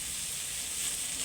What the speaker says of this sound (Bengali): আলুগুলির সাথে পেঁয়াজগুলিও ভাজা হয়ে দেবো ভালো করে